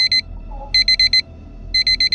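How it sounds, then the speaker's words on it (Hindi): An alarm clock beeps in quick bursts of four shrill electronic tones, repeating about once a second, loud and close with nothing else around it. "अलार्म बजता है।"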